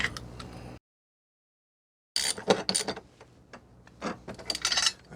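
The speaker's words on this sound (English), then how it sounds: "You will need a 17mm socket, deep one as well, to get rid of the O2 sensor." A 17mm deep socket on a ratchet works an O2 sensor loose from a Honda NC750X motorcycle exhaust; after a brief silence come close, irregular metallic clicks and scrapes.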